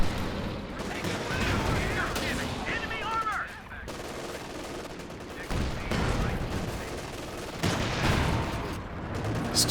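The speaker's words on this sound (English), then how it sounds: "Two tanks duking it out." Tanks fighting in Company of Heroes 2, including an American Pershing, with heavy booming cannon fire, rattling machine-gun bursts and explosions layered densely, loud and continuous, while a commentator talks over the battle.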